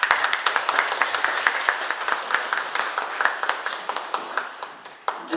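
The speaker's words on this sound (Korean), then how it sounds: "큰 박수 부탁드리겠습니다." A small indoor crowd in a meeting room gives a warm round of applause for a speaker being called forward, brisk overlapping claps with a few sharp individual hits standing out, close and fairly loud throughout.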